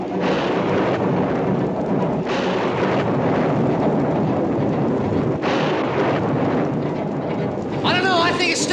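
Thunder rolls and rumbles through a storm in a TV western, deep booming waves rising and falling over a steady wash of rain, with a voice speaking briefly near the end.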